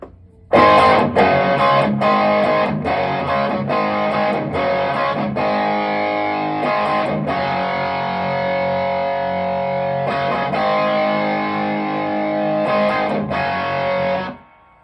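Electric guitar played through a Line 6 POD GO with heavy distortion and effects, strummed chords cutting in and out in short bursts and longer sustained passages, loud and close.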